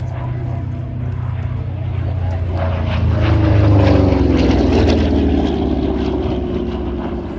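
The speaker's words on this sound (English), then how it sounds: "The P-47 was also the most numerous American fighter of World War II." A P-47 warbird fighter flies past at the RAF Cosford airshow with a deep propeller-engine drone that swells as it nears, then slowly fades, while a commentator talks over it.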